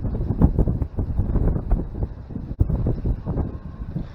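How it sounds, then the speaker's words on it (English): Gusty wind buffets a microphone outdoors beside a chicken coop door, a continuous low rumbling roar that swells and dips throughout, close and fairly loud. "I wish it wasn't so windy right now."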